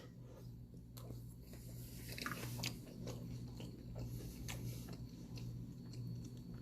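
Faint crunching and chewing of grocery store cereal soaked in milk, soft irregular bites over a steady low hum, close up with no talk.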